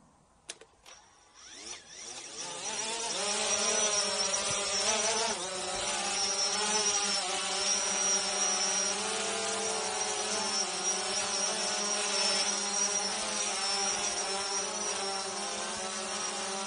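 A DJI Phantom 4 drone carrying a 360VR camera mount spins up after a few clicks and then hovers close by, its rotors giving a loud steady buzzing whine with slight pitch wavers.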